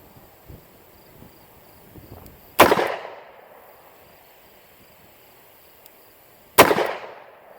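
An old used Colt Trooper Mk3 Magnum revolver fires two sharp, loud shots about four seconds apart, each cracking then rolling off in a short echoing tail against a quiet outdoor background.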